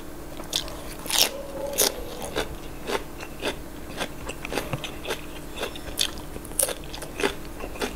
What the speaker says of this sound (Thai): ผักกรอบครับ